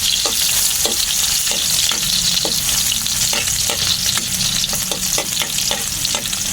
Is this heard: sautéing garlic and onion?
yes